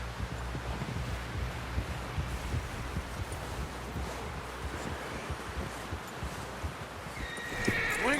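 A horse in Red Dead Redemption 2, with clopping hooves and movement under a steady bed of wind and rustling, and a short whinny rising near the end.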